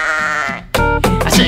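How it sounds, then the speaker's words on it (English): A sheep gives a close, loud bleat, followed by a couple more loud bleating calls in quick succession. "The sheep, it sounds like this."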